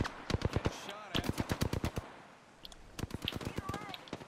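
Automatic gunfire from the video game Apex Legends rattles out in rapid, loud bursts, with one long volley, a brief pause, then another string of shots.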